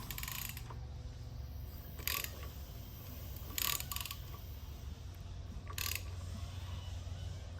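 A motorcycle primary chain spun by hand, a faint, steady mechanical rattle and clicking with a few brief louder ratcheting bursts, close and quiet with no talk.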